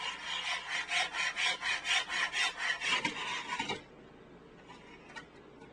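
Logan F100-2 Pro Saw cutting molding at a 45-degree angle, a close, loud rhythmic rasp of about a dozen back-and-forth strokes that stop abruptly, leaving quiet room tone.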